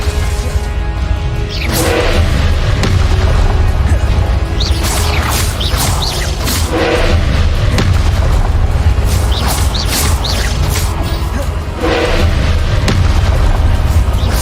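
Confringo explosion spells blasting in Hogwarts Legacy: a series of loud, close booms, each with a whooshing burst, layered over a continuous heavy rumble.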